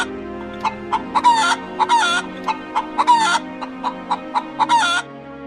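Hens cluck repeatedly in an animated Bengali cartoon, a loud, close series of short clucks broken by a few longer rising squawks, with no talking.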